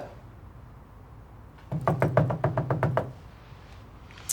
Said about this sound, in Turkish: Aç kapıyı Gülperi aç biz geldik.